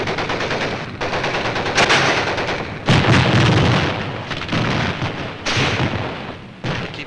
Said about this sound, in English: The mortar barrage searches out hidden machine gun nests.